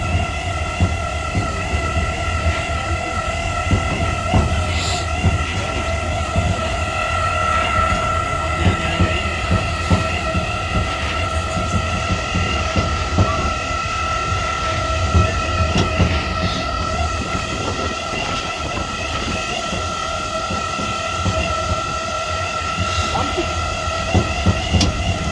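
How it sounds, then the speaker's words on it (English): A tram car rolls along the Wildwood, New Jersey boardwalk, a steady droning hum with low rumbling and faint rattles throughout, heard from on board over a long stretch. "this is my first tram car ride this year."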